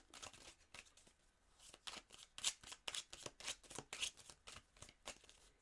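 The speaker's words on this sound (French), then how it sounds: "J'étais juste en train de mélanger les cartes." Tarot cards being shuffled by hand close up, a quick run of crisp riffling bursts and soft flutters, fairly quiet and with no talk.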